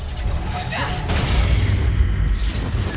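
A Reducto spell blast in Hogwarts Legacy lands as one sharp crashing burst, then a loud rumbling, shattering roar carries on for about two seconds amid the game's combat sounds.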